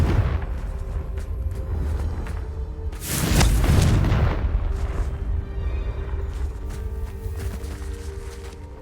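A Confringo blast spell explodes in the Hogwarts Legacy video game, one loud booming burst about three seconds in that rumbles and fades over a second or two above a steady ambient game background.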